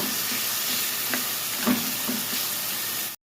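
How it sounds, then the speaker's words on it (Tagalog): Onion and tomato sautéing in a pan for milkfish sinigang give off a steady, close sizzle, with a few soft scrapes and knocks of stirring, before a brief cutoff near the end. "Gisa po natin ang sibuyas, kamatis."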